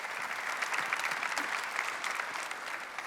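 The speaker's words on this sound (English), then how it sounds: "Give him a round of applause." Audience applause at a university family event panel, a steady wash of many hands clapping at moderate distance, continuous and fairly soft throughout.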